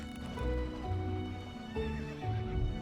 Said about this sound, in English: Did I just accidentally run over a horse?